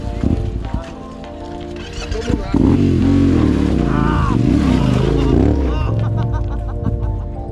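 A motorcycle rides through hot Portuguese countryside near Belver, its engine close and loud, with rising and falling revs and gear changes, and voices faintly mixed in.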